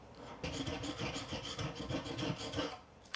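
Old finish being scraped off a neck-through guitar with a knife, a close, quiet rasping scrape in rapid repeated strokes for a few seconds.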